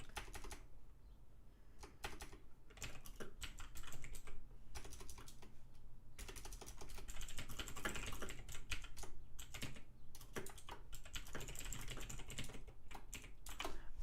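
Typing on a computer keyboard: quiet, close key clicks in irregular bursts with brief pauses, alone and faint.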